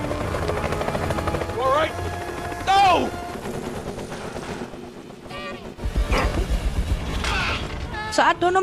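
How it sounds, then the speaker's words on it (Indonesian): A helicopter lifts off amid a film action scene, its steady rotor drone mixed with gunfire-like bursts, rising whooshes and sound effects, loud and busy throughout. "Ketika helikopter itu akan terbang"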